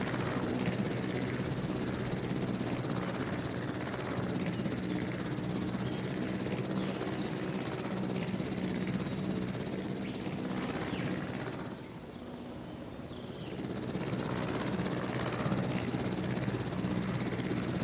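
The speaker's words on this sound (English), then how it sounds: "So you gotta wait for this helicopter to leave the map before it's sold?" Steady rotor and engine roar from a departing helicopter in a video game, loud and continuous throughout, dipping briefly before swelling back up.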